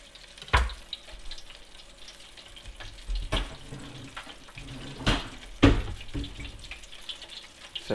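A faucet runs over a sink as a slimy toadfish fillet is rinsed, a steady close wash of water broken by a few sharp clunks and splashes, with no voices.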